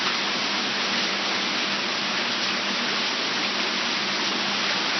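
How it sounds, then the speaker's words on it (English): Hail pounding down hard in Baltimore, a dense, steady roar of broadband impacts filling the whole stretch with no letup, loud and close throughout. "Listen to the hail."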